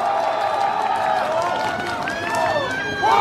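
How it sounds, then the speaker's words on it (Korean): A crowd at an outdoor political campaign rally on a cold day applauds and cheers steadily for about three seconds, with scattered voices mixed into the clapping. "큰 박수로 맞아주십시오"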